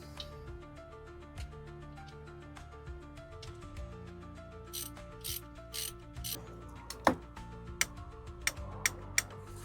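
Ratchet clicking while a new idler pulley goes onto a V6 Toyota 4Runner engine, a close mechanical ticking with a few sharper clacks near the end over a steady background hum.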